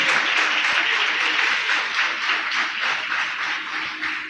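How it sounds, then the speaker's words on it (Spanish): A church congregation applauds during a sermon, a sustained crowd of hands clapping at a steady, fairly loud level with slight swells, no speech on top. "Si vas a aplaudir, que sea fuerte ese aplauso a Él."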